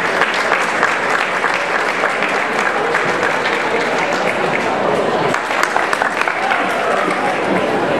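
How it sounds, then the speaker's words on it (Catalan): A large crowd applauds steadily for a graduating student at a secondary-school diploma ceremony, with dense, loud clapping filling the whole stretch and a faint voice under it. "En primer lloc, un fort aplaudiment per a Iris Català Camarena."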